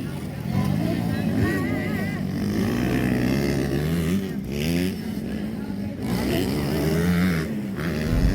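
An 85cc motocross bike racing in fourth gear at full throttle over a jump, its engine a loud sustained high-pitched drone with slight pitch wavers and brief dips, under a voice talking throughout.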